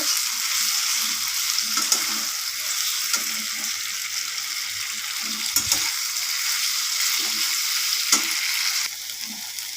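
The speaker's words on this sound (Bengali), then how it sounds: "সয়াবিনগুলোকে তেলের সাথে একটু ভালো করে ভেজে নেব" Boiled soybeans frying in oil in a pan: a loud, continuous sizzle carries on for the whole stretch, with scattered clinks and scrapes of a spatula stirring them.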